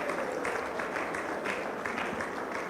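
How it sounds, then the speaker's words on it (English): Audience applause at a Nigerian panel event, a fairly quiet but continuous patter of many hands clapping from a seated crowd, steady throughout with no distinct voices. "And our applause can be better than that"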